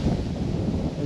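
Strong wind roaring across an outdoor microphone on a hilly bicycle tour, a dense, constant low rumble and buffeting with no breaks.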